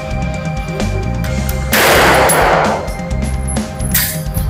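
Taurus G3 pistol test-fired outdoors, with sharp reports across a busy, noisy background and a louder burst of sound near the middle, heard without talking.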